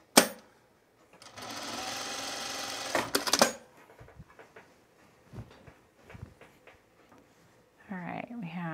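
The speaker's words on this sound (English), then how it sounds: "let's just stitch down the pleat at the top here" A sewing machine stitches down a pleat on culottes in a loud, steady burst of about two seconds, followed by quieter fabric handling and clicks, then a short second run of stitching.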